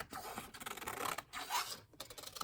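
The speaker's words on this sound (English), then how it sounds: "I'm going to trim this edge off too." Paper being trimmed along its edge for a collage, a soft close scratching and rasping in short uneven strokes with brief pauses.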